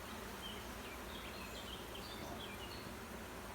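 Honeybees swarm around an open hive during a beekeeping inspection in Norfolk, a continuous dense buzzing hum close by, with faint higher tones drifting through the drone.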